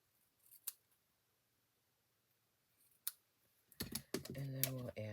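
Scissors snip off a paper craft piece for a pumpkin project, with a few faint isolated snips, then a closer, busier cluster of cutting clicks blending into soft speech at the end.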